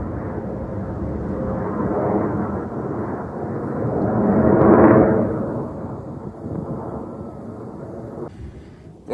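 A VW T4 van's diesel engine rumbles steadily nearby, a little smoky, swelling louder midway before settling back to a rough idle.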